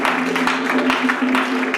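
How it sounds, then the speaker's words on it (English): Congregation clapping steadily in a church service as a big clap offering to the Lord, a dense continuous patter of many hands with a low sustained tone running beneath it. "big clap offering to the Lord"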